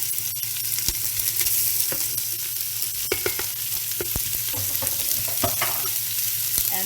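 Meat browns and sizzles in an Instant Pot while being stirred, a steady frying crackle broken by frequent scraping and clinking of the utensil against the pot, close and fairly loud with no talking.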